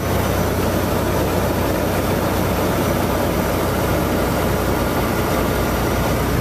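A heavy truck engine labours up a hill under heavy load at moderate RPM, a steady, loud, low drone heard from inside the cab with no talk.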